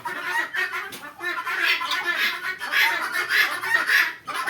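Tithi chickens on a poultry farm cluck and call in a steady, overlapping flock chatter, close and fairly loud throughout, with faint voices now and then in the background.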